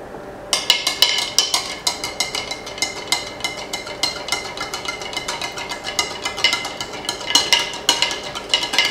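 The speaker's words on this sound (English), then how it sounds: "And I'm just going to stir it again." A spoon stirring vanilla coffee creamer in a pitcher, a steady run of close, bright clinks and scrapes against the sides that keeps going for the whole stretch with no talking.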